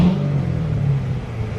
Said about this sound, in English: I'm revving it by pressing the clutch.